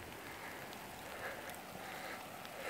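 Steady rain falls outside in a dry prairie city, an even hiss of drops on surfaces with faint patters, continuous and moderately close.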